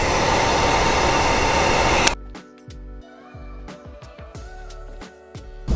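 A heat gun blows hot air in a loud, steady roar onto chrome delete wrap on a Kia Sportage side skirt, then cuts off abruptly, leaving quiet handling noises and light clicks.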